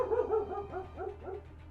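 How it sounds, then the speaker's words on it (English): A dog gives a quick run of loud, close barks, about five or six in a row, without pause between them. "Yes, he barks. He barks very loud."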